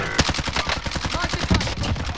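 Rapid video-game gunfire crackles in dense, loud bursts of automatic shots, close and continuous, with no voices over it.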